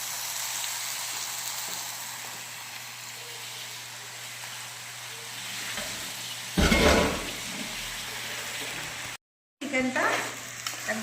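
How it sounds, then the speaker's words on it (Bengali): Marinated chicken and onions fry in a pan with a steady, close, crackling sizzle. A louder burst of stirring comes midway, then a brief drop to silence before the sizzling returns. "দিয়ে খুব ভালো করে ভেজে নেব"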